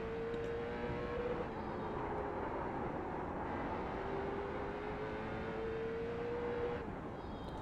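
Late model stock car in a racing simulator held at full throttle around a short oval, a steady loud engine drone with rising tonal whine, continuous and alone.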